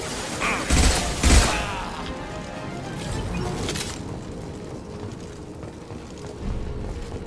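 A few sharp bursts of gunfire in the Mass Effect 2 video game, fairly loud and close near the start and again a little later, over a low game rumble and background hum.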